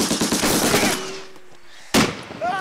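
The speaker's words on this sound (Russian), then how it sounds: "Давай, стреляй же, ну!" Movie gunfire from an automatic weapon and a rifle rings out as a rapid burst of shots, then a lull, then one more sharp crack, with a short whistling tail after it.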